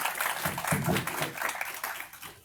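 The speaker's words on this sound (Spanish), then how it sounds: "Un fuerte aplauso a Miguel." Conference attendees clap for Miguel, a moderate, fairly brief round of applause with scattered individual claps that thins out toward the end.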